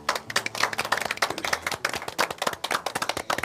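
A church congregation at a Sunday worship service claps to welcome someone forward, with crisp, separate hand claps from a modest group forming a brisk, uneven patter close by.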